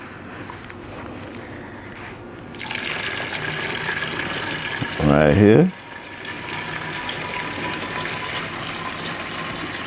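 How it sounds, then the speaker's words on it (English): A whole gallon of vinegar pours into a container mixed with dish detergent for garden weed killer, making a steady splashing stream that runs for several seconds while a person talks. "Next thing you're gonna do is pour your vinegar in there."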